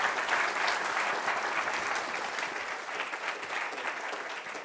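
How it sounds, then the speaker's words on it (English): Audience applause at a university department's 25-year anniversary event, dense and steady clapping from a large room that continues throughout and eases slightly toward the end. "give Steve a big round of applause"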